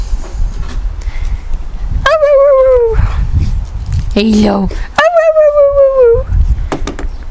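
A pet dog barks and lets out long, high whimpering whines in several bursts, close by and loud, with a person briefly speaking between them in a home setting.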